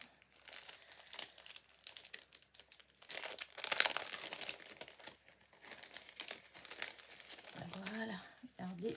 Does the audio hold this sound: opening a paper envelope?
yes